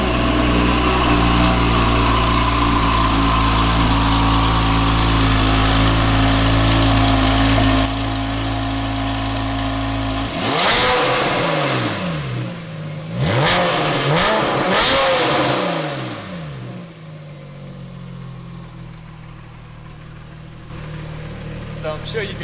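A Porsche 911 50th Anniversary edition with an AWE aftermarket exhaust idles loudly and close, then fires off several sharp, rising revs in quick succession before settling back to a lower idle.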